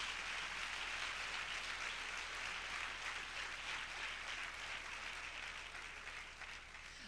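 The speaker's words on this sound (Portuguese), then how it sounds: "Pode aplaudir ao Senhor" Church congregation applauding during a sermon, a faint, distant, steady wash of clapping that continues evenly and tapers slightly at the end.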